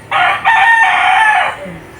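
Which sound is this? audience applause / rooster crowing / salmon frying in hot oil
rooster crowing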